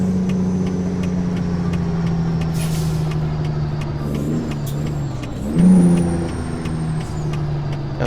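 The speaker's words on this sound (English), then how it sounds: "Downshift into 7th." Big rig truck in American Truck Simulator humming steadily as it slows, with a low engine drone that shifts pitch midway and a short hiss, under a faint ticking indicator.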